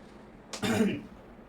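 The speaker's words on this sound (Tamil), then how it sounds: "இருமல்" A single harsh cough, short and throaty, rising out of a quiet background and fading within about half a second.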